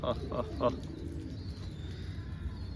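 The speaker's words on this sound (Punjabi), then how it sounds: "ਦੋਸਤ ਕਬੂਤਰ ਵੀ ਆਪਣੇ ਦਾਣਾ ਪਾਣੀ ਖਾ ਕੇ ਬੈਠੇ ਹੋਏ ਸੀਗੇ" Pigeons that have just eaten and drunk settle and coo, a few short close calls early, then a low ongoing murmur in a quiet room.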